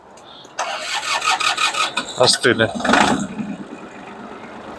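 A cold Japanese mini tractor engine cranks and catches in a sputtering, uneven series of bursts, then settles toward a rough idle, close by with someone speaking briefly over it.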